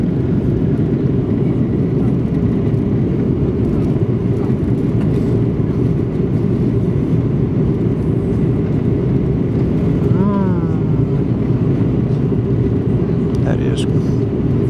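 A steady, heavy engine drone fills an aircraft cabin, low and unbroken throughout, with a brief faint voice-like sound partway through.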